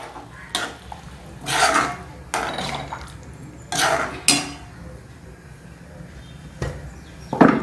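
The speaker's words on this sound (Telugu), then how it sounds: "తర్వాత వాటర్ వేసేసుకోండి" Water is poured into a pan of masala curry made with dondakaya (tindora/ivy gourd). It comes in a few loud splashing, scraping bursts, with clinks of the pan and utensil between them and no talk.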